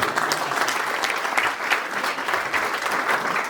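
A college audience gives loud, sustained applause at a Hindi comedy and poetry performance, a dense, even roar of many clapping hands lasting several seconds.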